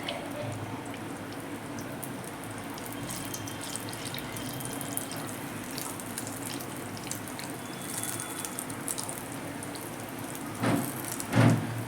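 Water runs and splashes softly as hands are wetted, a continuous trickle with a few louder splashes near the end.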